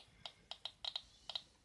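Faint, quick clicks from a Pirate metal detector, coming singly and in close pairs in an irregular rhythm over a low, quiet hum.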